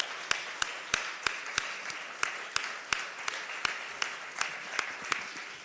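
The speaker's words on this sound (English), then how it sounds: "Let's applaud, please." An audience at the ABAN Congress 2025 applauds with a dense wash of clapping, punctuated by sharp, evenly timed claps that keep a steady rhythm throughout.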